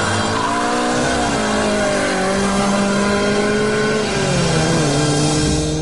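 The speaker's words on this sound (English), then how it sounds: "You can power slide. Third gear wheel spin." A modified car power slides in third gear with wheel spin, its engine revving hard and rising in pitch while the tyres squeal, loud and close with no talk.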